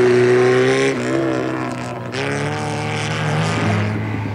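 A Ford Cortina rally car on a classic marathon drives with a steady loud engine drone, pitch shifting with gear changes and throttle, near and continuous.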